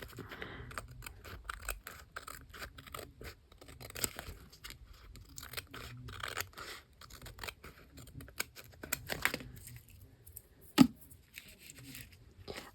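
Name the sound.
scissors cutting paper and lace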